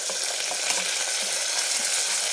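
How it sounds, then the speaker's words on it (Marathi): Onions sauté in a pan for a traditional mutton curry, giving a steady, even sizzling hiss that carries on without a break and with no voices. "एक काही सेकंद फक्त परतायचे, हे जास्त वेळ नाही लागत याला"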